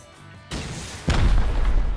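Rocket explosions hit during a video game raid. Two heavy booms land about half a second apart, each leaving a loud, sustained rumbling roar.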